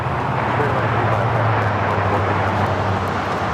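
A United Airlines Boeing 787 Dreamliner takes off at a foggy LAX, a steady broadband jet rumble with a low drone, heard mid-distance under faint background.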